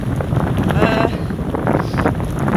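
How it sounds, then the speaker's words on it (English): Wind buffets the microphone in a steady, rough rush that covers the whole stretch, with no clear voices, outdoors on a downhill stretch of the Peddars Way footpath. "Probably a bit windy now."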